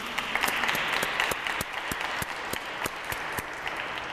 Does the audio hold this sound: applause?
yes